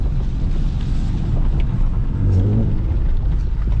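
Infiniti G37 with a newly installed VVEL module, driving along with a steady engine and road rumble mixed with wind buffeting, heard from inside the car with no speech.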